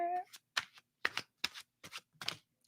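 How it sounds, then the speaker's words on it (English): A deck of tarot-style reading cards is shuffled in a quick series of about six crisp riffling bursts, close and clear, with brief quiet gaps between them and a short voice at the start. "I'm told to shuffle more."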